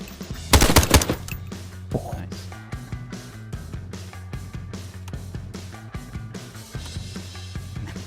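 Video game gunfire plays in a rapid series of sharp, evenly spaced shots that open with a loud burst, while a person talks over the shooting.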